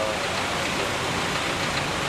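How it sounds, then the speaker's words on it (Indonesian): Heavy downpour during the evacuation of a body, a dense, constant hiss of rain falling on surfaces, loud and unbroken throughout with no speech over it. "Dengan kondisi hujan deras"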